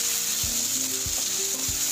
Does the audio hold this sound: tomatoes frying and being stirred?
yes